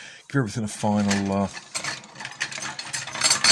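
A Buzzbee Sentinel dart blaster, fitted with a brass breech, is bolted back together: close mechanical clicks and a tonal ratcheting whir of a screwdriver tightening, followed by scattered handling rattles.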